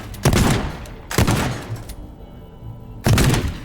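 Shotgun blasts smash bricks in the destruction game Teardown: three loud, close booms spaced about a second or two apart, each trailing into crumbling debris, with no talking.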